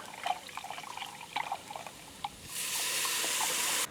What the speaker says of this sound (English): now I have to add in the orzo, the chicken stock, and water